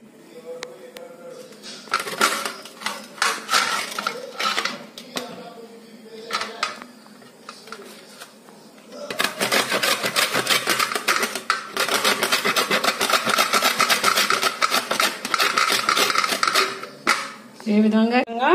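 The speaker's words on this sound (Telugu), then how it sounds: "ఈ విధంగా క్యారెట్లన్నీ తురుముకోవాలి." Fresh carrots grated by hand for a carrot and tomato curry, with repeated rasping strokes that come in bursts and then run as a long, steady stretch of close scraping.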